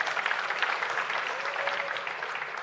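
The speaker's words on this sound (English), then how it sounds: "You guys deserve a round of applause for this." Applause for graduates at a high school class night ceremony, a steady round of clapping from a seated crowd at moderate distance, lasting a few seconds with no speech over it.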